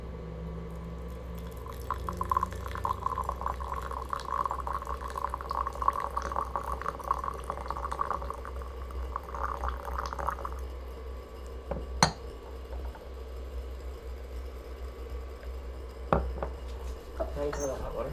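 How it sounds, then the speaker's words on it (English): A teapot is rinsed with water, a soft ongoing splash and pour with a couple of sharp clinks of ceramic, fairly quiet and close. "let me wash off the teapot first because it got previous tea in there"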